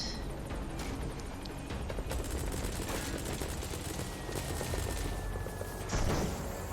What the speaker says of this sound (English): that's the mortar